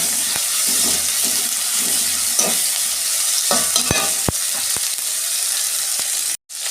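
Tomatoes frying in a pan give a loud, continuous sizzle with occasional scraping stirs, heard alone without talk and ending in an abrupt cut.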